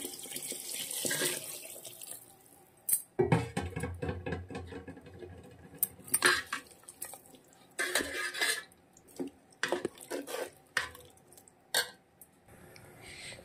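Water poured from a glass into a pot of ivy gourd vegetable biryani, a close splashing pour of about two glassfuls with broadband gushing bursts, interspersed with metal clinks of the pot and utensils, no talking.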